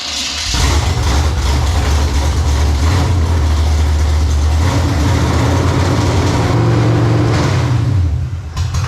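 A freshly built V8 with a big, aggressive cam, swapped into a G-Body car, fires up and settles into a loud, lopey, rumbling idle with a heavy low throb, very close and dominant throughout.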